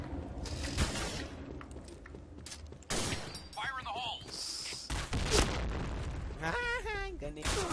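Bursts of rifle fire in the online shooter Point Blank, rapid cracks and booms layered with game effects and a voice talking over the action throughout.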